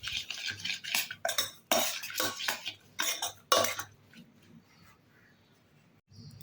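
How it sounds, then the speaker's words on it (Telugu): Cooled semolina being mixed with yogurt in a bowl, with a spoon scraping and clinking against the bowl in rapid bursts for several seconds before it fades to quiet handling and near silence. "పూర్తిగా చల్లారిన రవ్వను ఒక గిన్నెలోకి తీసుకొని పెరుగు వేసుకొని కలుపుకోవాలి."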